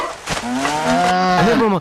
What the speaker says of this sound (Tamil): மாடு போகுது மாடு